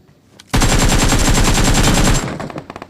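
Sustained automatic gunfire in the PUBG Mobile game on a POCO X6 phone, a loud rapid burst lasting under two seconds, then fading scattered shots.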